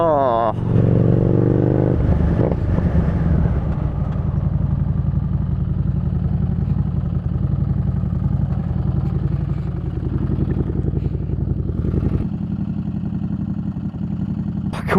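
A Harley Davidson Street Rod 750 motorcycle rumbles steadily while riding on Cornwall back roads, its engine note loud and continuous with wind noise, rising briefly near the start and holding a low drone throughout.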